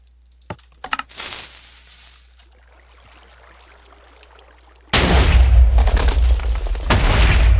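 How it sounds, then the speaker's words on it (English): Minecraft TNT cannon firing: a few sharp clicks and a burst, a short quieter stretch, then a sudden loud, sustained rumbling blast of explosions that fills the rest of the clip. "Let's try firing it again and see if that actually does blow it up."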